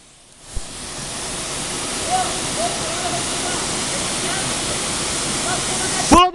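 A waterfall at São Lourenço do Oeste gives off a steady, loud, broadband rushing roar that lasts the whole time, with faint voices and a few splashes rising briefly above it.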